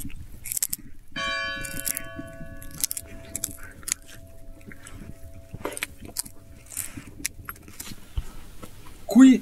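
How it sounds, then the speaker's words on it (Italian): Tubular bell chimes in a park, struck with a beater system: a few clear ringing metallic tones that sustain and fade, mixed with rustling, clinking handling noise and brief voices nearby. "c'è anche questo strumento di campane tubolari con questo sistema di battenti che si possono suonare"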